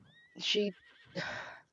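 A Swedish Warmblood horse neighs nearby, two short whinnies with a brief pause between them.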